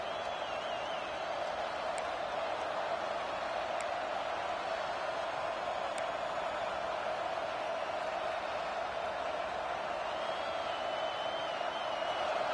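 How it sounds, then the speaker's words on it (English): Steady roar of a stadium crowd at a football game, a continuous wall of cheering and noise with no breaks, loud and enveloping, with a few faint higher whistles or shouts poking through. "listen to this crowd noise. This stadium is vibrating."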